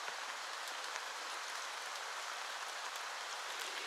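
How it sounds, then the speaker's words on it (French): Steady rain falls in a humid forest along a hiking trail, a soft continuous hiss of drops on leaves and ground, even and moderately faint throughout. "La fraîcheur du vent et de la pluie nous vivifie."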